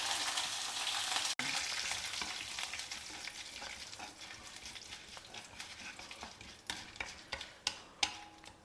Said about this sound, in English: heat about 2 tablespoons of oil. Add some mustard seeds, Urad dal, a few curry leaves,